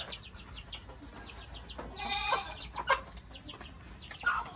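Chickens clucking softly at a rural Thai home where an old pig pen is being fixed up for them, with repeated short calls and a louder squawk in the middle, faint and fairly close.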